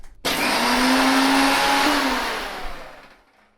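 A mixer grinder roars steadily as it grinds soaked chana dal for masala vadai batter, starting abruptly, holding a loud even whir with a faint rising whine, then slowing and fading toward the end.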